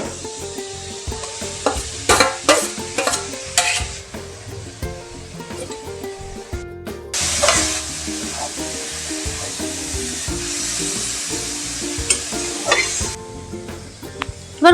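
Grated coconut stirred into melted sugar in a pan for Gokul pithe, busy scraping and clattering strokes over a steady hiss and sizzle, close and fairly loud, no speech.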